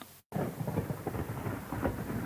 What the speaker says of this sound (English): A low roll of thunder came. It was far off, only a rumble